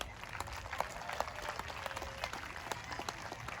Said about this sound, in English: So a big round of applause to all the parents, please.